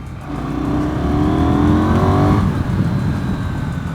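A 2024 KTM 990 Duke motorcycle engine revs hard at high pitch, climbing steadily and then holding a loud, buzzing drone close by.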